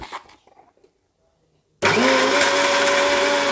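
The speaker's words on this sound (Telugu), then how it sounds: "వేసి ఒకసారి మిక్సీ పట్టి పౌడర్ అయిన తర్వాత" A mixer grinder loudly whirs through cooled roasted spices with turmeric, chilli powder and salt for stuffed brinjal curry. It starts abruptly after a quiet pause with a few soft handling sounds and runs steady to the end.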